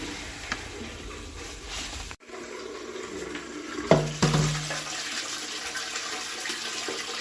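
Water flushes through floor heating pipes during a cleaning job, rushing steadily and close. It cuts out for a moment near the start, then surges back with a short gurgling burst.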